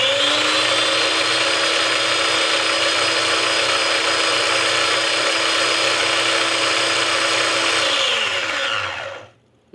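A kitchen blender whirs loudly and steadily, processing sauce for a Mexican cheeseburger, its motor whine running continuously before winding down and cutting off near the end.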